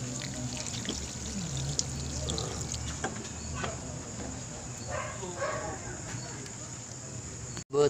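A little water pours steadily into a pan of chicken feet for several seconds over a constant background hiss, ending with a brief clunk.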